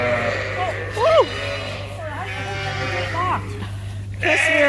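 Sheep bleating on a farm during penning, several wavering bleats at moderate distance over a steady low mechanical hum, with people talking nearby.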